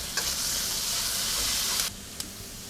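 Loud, steady sizzling of pork stir-frying in a hot wok with vegetables, with a couple of sharp clanks of a spatula as it's tossed.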